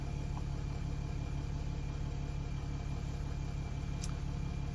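A Mercedes ML350 engine idles steadily at close range, a constant low hum with a faint high whine and no change in pitch, running alone without voices.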